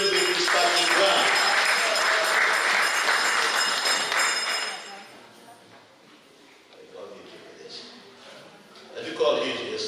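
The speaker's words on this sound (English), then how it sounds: "Give the AG another round of applause" An audience at a community consultation claps steadily and loudly for about five seconds, then the applause fades into quieter room murmur with a brief swell near the end.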